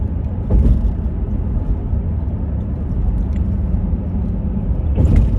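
A car cruises along Lakeshore Drive in Chicago, filling the scene with a loud, steady low road rumble and engine drone heard from inside the vehicle.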